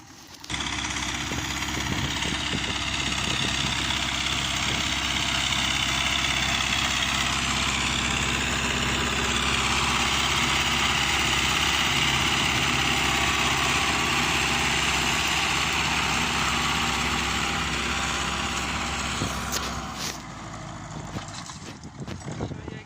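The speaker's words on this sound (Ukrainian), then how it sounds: "Трактор тяне, звісно, дуже жорстко" A tractor engine drones steadily and loudly for about twenty seconds, straining under load while preparing a field for a hazelnut orchard, before dropping away near the end.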